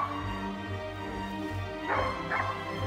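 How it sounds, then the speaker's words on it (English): Hunting dogs bark and yelp in the distance during a driven boar hunt in Hungary, a couple of short bursts rising over a steady outdoor background rumble. "By the barking of the dogs, you know they're on an animal."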